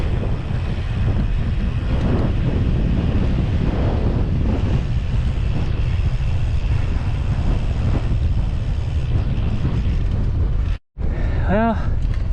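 Strong wind roars and buffets the microphone continuously while cycling, a dense rumbling gust that barely lets up, with a brief dropout near the end.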